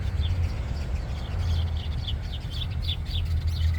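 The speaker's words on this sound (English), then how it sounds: "You hear all the other birds in this tree right here." Several birds chirp in a tree, with short high tweets repeating in quick irregular bursts over a steady low rumble of outdoor background noise.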